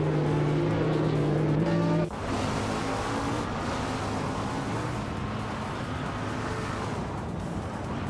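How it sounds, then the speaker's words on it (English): Ferrari 488 Challenge race cars at speed in a race, a loud tonal engine whine that cuts off abruptly around two seconds, followed by dense roaring and rushing car noise continuing to the end. "The Ferrari 488 Challenge is known for its sharp handling and aggressive aerodynamics."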